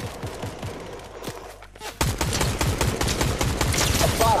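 Gunfire in the Fortnite video game: scattered shots at first, then a dense rapid burst of repeated firing that grows louder and keeps going to the end.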